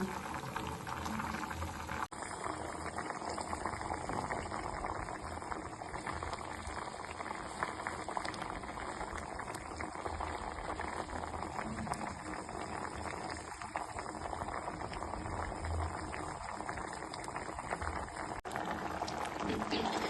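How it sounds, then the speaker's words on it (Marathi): Black gram dal boils in a pot, a continuous close bubbling simmer with dense popping that holds steady throughout, alone without talk. "डाळ मस्त उकळती आहे"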